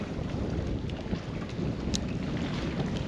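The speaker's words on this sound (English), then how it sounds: "So that's probably why it's so windy." Steady wind gusting across open lake water near a bridge, a constant loud low rumble of wind buffeting the microphone with faint lapping water, no voices.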